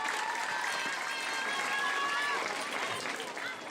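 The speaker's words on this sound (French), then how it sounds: "Applaudissez pour eux." Audience applause at a school partnership event honoring teachers, a continuous crowd clapping with some voices mixed in, steady and full throughout.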